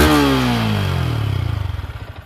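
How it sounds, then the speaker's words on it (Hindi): A Yamaha MT-15 motorcycle engine winds down from a loud rev, its pitch falling and settling into a close, rapidly pulsing idle-like thrum. "इसकी जो साउंड है वो भाई फील करा देती है कि ये एक लोअर सेगमेंट की बाइक है।"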